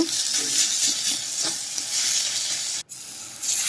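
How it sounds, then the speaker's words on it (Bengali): Ginger, cumin and dried chili paste sizzles in hot oil with powdered turmeric, coriander and red chili for a prawn curry, a steady close frying hiss with a few soft stirring scrapes and one brief break near the end. "দিয়ে দিলাম আদা জিরে শুকনো লঙ্কার বাটা। ভালো করে মশলা কষিয়ে নেব"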